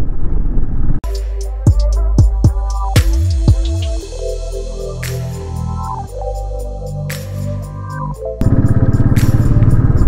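A motorcycle rides along the dry Charmadi Ghat mountain road, its engine rumbling loud and close at the start and end, with shifting tonal whines and revs carrying through the middle.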